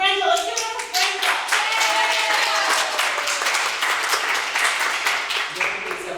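Live audience at an improv comedy show clapping and applauding, a dense burst of many hands sustained for several seconds, with a few voices calling out over it.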